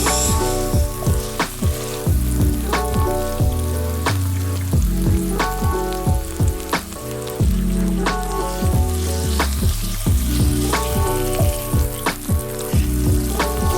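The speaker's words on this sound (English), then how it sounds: "I've cranked the induction up to high, so I'm gonna leave that bacon fat in there, get the pan pretty hot" Bacon fat sizzling and spitting in a pan heated on high on an induction hob, loud close crackling with repeated sharp pops and steady frying hiss throughout.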